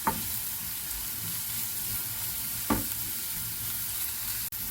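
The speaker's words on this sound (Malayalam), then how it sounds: "ഒരു ടീസ്പൂൺ ഇഞ്ചിയും അര ടീസ്പൂൺ വെളുത്തുള്ളിയും അരച്ചതാണ് അത് അതിലേക്ക് ഇടുകയാണ് നല്ലവണ്ണം ഒന്ന് ഇളക്കി കൊടുത്ത്" Ginger and garlic paste stirred in a hot pan for a prawn dish, a soft continuous sizzle with two brief scraping stir strokes, close and moderate in level.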